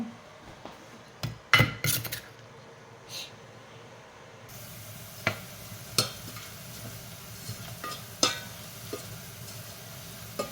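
Garlic frying in a pan: a low steady hiss with scattered sharp clinks of a utensil against the pan, fairly quiet and without talk.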